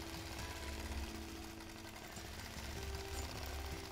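A sewing machine runs continuously while stitching a quilt along a basted edge over pins, a steady low mechanical whir with a fast rhythmic buzz, fairly quiet and unbroken.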